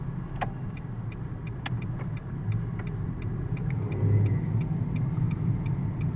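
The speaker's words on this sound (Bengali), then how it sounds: "প্রচণ্ড জ্যাম, প্রচণ্ড জ্যাম।" Heavy traffic jam on a rainy road, heard as a steady low rumble of idling and creeping cars, with sharp clicks and taps scattered over it and no voices.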